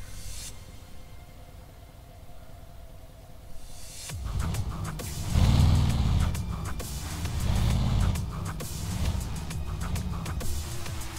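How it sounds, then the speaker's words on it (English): A Kenworth W900 truck engine in Euro Truck Simulator 2 starts after a few quiet seconds, then runs with a steady low rumble and two swells of revving, close and fairly loud. "I think that was the smoothest startup I ever heard"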